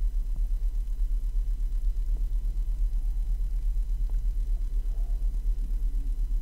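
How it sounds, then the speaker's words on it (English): A VW A5 with an intermittent warm-stalling fault and an engine speed sensor issue idles close by, a steady low pulsing rumble with slight vibration and no other sounds. "Gonna let it idle again, see if it shuts off again."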